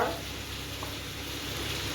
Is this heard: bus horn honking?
no